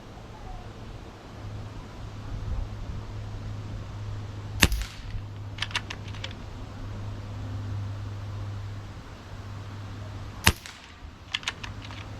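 A Gamo Arrow Classic .22 air rifle firing at 30 yards, two sharp snapping shots several seconds apart, each followed by quick faint clicks, over a steady low hum.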